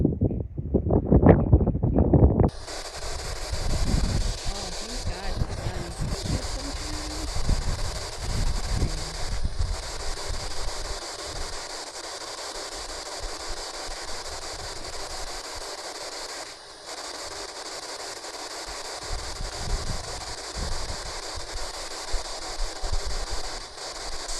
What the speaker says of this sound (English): That wind came in, and then he laid down.